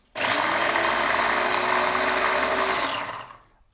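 A food processor whizzes fresh green chilies in one quick, loud burst of steady whirring that starts abruptly and winds down after about three seconds.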